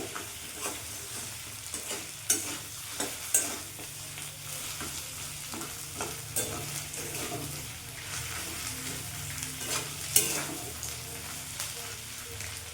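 Spices frying in a pan over a raised flame for a moong dal dish, a soft continuous sizzle broken by repeated scraping strokes of a spoon, with a few sharper clinks against the pan.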